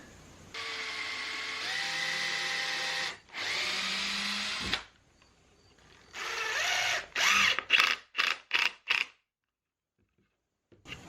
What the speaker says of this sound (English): I probably better do a pre-drill to make sure this doesn't go popping out of there.